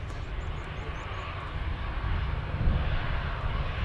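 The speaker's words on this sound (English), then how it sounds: "EasyJet A320 just arriving here at Manchester." A320 jet airliner of EasyJet arriving at Manchester Airport, a steady broad engine roar heard from a distance that swells slightly toward the end, with no voices over it.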